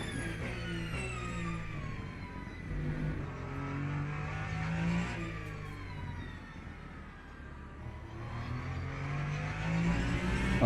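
Aston Martin Valkyrie race car engine out on track, revving and swelling as the car passes, loud and continuous with no talk.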